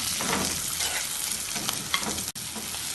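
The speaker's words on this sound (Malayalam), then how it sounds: "ഇതിലേക്ക് 1 തക്കാളി മുറിച്ച് ചേർത്ത് വീണ്ടും ഇളക്കി" Onion, ginger, garlic and fresh tomato sauté in a pan. A spoon stirs and scrapes repeatedly through the mix over a bright, steady sizzle, close and fairly loud with no voices.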